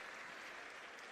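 A large audience at a Delhi municipal corporation event with the mayor applauds loudly and steadily, dense clapping with no talk over it.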